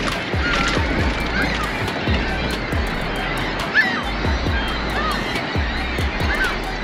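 Geese honking on a morning waterfront in Hamilton, repeated loud calls in an irregular rhythm over constant background noise, with someone talking briefly.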